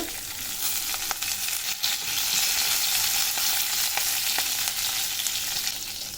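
Curry leaves fry in oil with urad dal for rava upma, giving a dense, continuous sizzle with occasional sharp crackles and pops, close and fairly loud without any voices.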